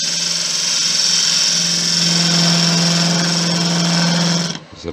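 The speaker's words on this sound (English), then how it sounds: "I'll be going to my favourite spindle gouge to do the finish cut on this." A wood lathe spins a Thai redwood vase as a spindle gouge takes a finish cut, a loud, steady high-pitched whine with a constant low hum that cuts off abruptly near the end.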